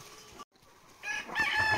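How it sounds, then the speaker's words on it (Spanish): A rooster crows among clucking hens on a farm with goats, a brief close cry rising after a short gap, with hens audible around it. "Gallinas, Felipe cantando y las cabritas comiendo"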